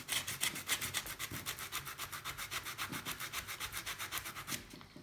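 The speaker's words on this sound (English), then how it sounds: "what I'm doing here is polishing a bit of something that wasn't fit for polishing" Someone polishes a rough metal casting that was never meant for polishing, a fast, steady back-and-forth rubbing with quick even strokes, close and fairly quiet, with no talk.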